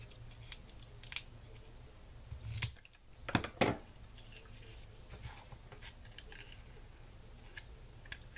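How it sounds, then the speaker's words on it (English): Paper being trimmed while making a paper sniper rifle: quiet snips and rustles with a short cluster of sharper cuts midway, close by against a soft background. "Looks like we need to trim it again."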